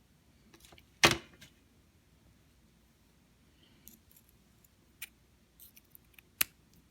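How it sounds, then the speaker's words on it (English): Scissors snipping beading thread on a necklace: one sharp close cut, followed by a few quieter clicks and a second short snip in a quiet room. "So I'm going to cut it right here."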